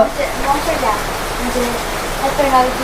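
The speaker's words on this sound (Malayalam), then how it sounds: "നല്ല മഴയാണ് കേട്ടോ പുറത്ത്" Heavy rain falls outside as a steady, even hiss that fills the background, with voices speaking faintly over it.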